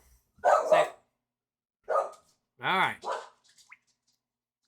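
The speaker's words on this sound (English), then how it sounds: "Dog's going nuts." A dog barks in a few short, loud bursts close by, spaced out between bits of indoor talk from a man.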